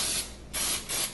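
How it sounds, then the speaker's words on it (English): An aerosol cooking spray that combines grease and flour is sprayed onto a baking pan in two quick hissing bursts, close and fairly soft. "I found this wonderful spray that actually has the grease and the flour all in one spray."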